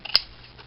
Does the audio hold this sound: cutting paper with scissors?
yes